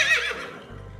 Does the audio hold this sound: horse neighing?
yes